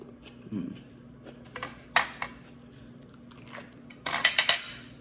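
Crisp crunching bites into an Asian tomato salad, a few sharp bursts near the start and a tight cluster of loud crunches toward the end, with faint background clatter.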